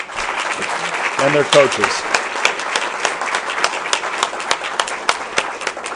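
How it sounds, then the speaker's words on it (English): Applause at a county board meeting honoring a high school Special Olympics basketball team, with brisk, uneven clapping from a roomful of people filling the hall, a voice speaking briefly over it near the start. "I'd like to get a round of applause for this team here"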